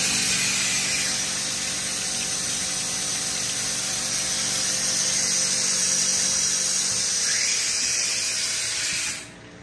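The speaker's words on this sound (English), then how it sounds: "Wire's now been threaded." A FANUC Robocut Alpha C400iA wire EDM machine runs while threading its wire, giving a steady mechanical whir and hiss with faint ratcheting. It cuts off abruptly near the end.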